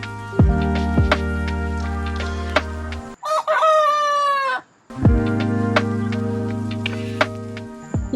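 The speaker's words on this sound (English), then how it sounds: "You can hear that at least one of our chickens has started to crow" A rooster crows loudly and close by, one drawn-out strained call set between stretches of other layered tones and sharp clicks.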